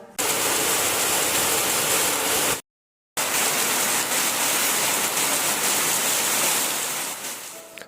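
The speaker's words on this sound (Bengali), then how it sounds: "ঠিক সেই সময় শুরু হলো মুষলধারে বৃষ্টি" Heavy downpour of rain, a dense, loud continuous hiss of pouring water that briefly cuts out to silence before resuming and slowly easing toward the end.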